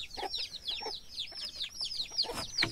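Hens cluck in short repeated bursts, several birds close by, with a busy, chattering rhythm and no talking.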